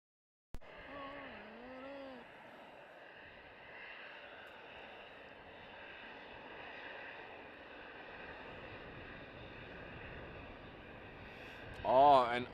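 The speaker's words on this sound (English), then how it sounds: "The A321 to London Heathrow is coming." Airbus A321 jet bound for London Heathrow departing at night from runway 36L at Amsterdam Schiphol, a distant steady engine roar with a whine that holds throughout, voices talking faintly over it.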